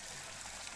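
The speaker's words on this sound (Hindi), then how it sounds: "ये पानी अपने आप निकलता है" Water flowing steadily out of an automatic tube well in the hills of Uttarakhand, a continuous, fairly faint rushing trickle heard up close, with no voices over it.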